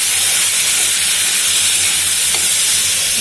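Onions fry in a wok while being stirred, producing a loud, dense and constant hissing sizzle close at hand with no voices.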